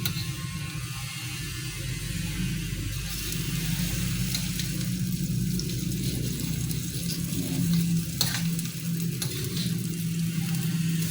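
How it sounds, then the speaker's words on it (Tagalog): A mixed shrimp batter sizzles and fries in hot oil in a pan, with a steady, dense crackle that holds close and loud throughout and occasional clicks from stirring or utensils, and no talking. "So, mainit na yung mantika. Ilagay na natin yung na-mix na pasayan."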